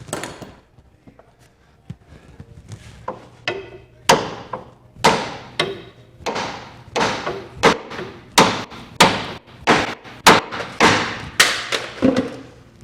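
A hammer repeatedly whacks a bolt on the steering components of a 1996 Buick Roadmaster B-body, starting with light taps and building into a steady series of loud, sharp metallic strikes, close to the microphone.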